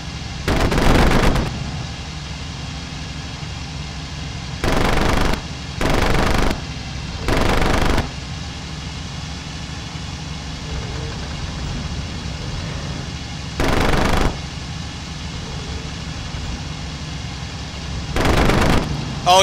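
Bursts of aircraft machine gun fire in the IL-2 Cliffs of Dover flight game, with Spitfires in the fight. Six or seven short, loud, rattling volleys come at irregular intervals over a steady engine drone.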